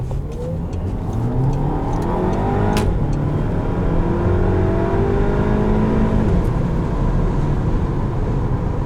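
A 2013 Audi A3 Quattro with S-Tronic gearbox accelerates hard in sport mode, the engine note climbing steadily and loudly from inside the cabin with rising harmonics and a brief click near the start.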